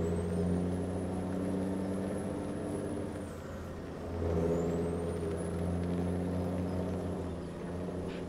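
A truck with air brakes backs a trailer up a hill, its steady engine drone and whir holding throughout at close range, with a brief dip midway before the motor swells again.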